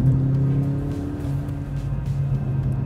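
A Mercedes-AMG hybrid road car with Formula 1-derived tech accelerates, its engine holding a steady, loud low drone with a sustained tonal hum, close up and continuous without talk.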